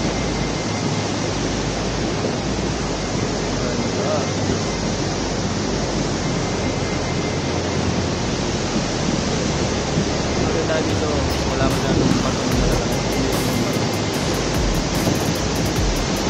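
Pagsanjan Falls roars as a steady, dense broadband rush of falling water, loud and continuous throughout, with faint higher spray hiss near the end.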